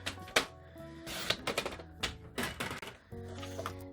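A paper trimmer cuts cardstock for a slimline card, giving close, clattering mechanical strokes in a few quick bursts with short pauses between them and no voice.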